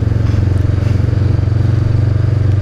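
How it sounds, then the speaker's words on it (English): Honda CB500X motorcycle engine pulling steadily up a steep road, a loud, continuous low throbbing drone with constant rhythm and no talk. "this bike, the torque out of the engine is just perfect"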